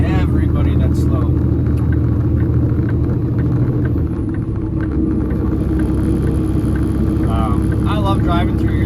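A vehicle creeping slowly through traffic produces a continuous low rumble with steady engine drone. A voice speaks over it.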